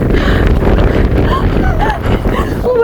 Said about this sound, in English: It's hell windy! Kinda scary!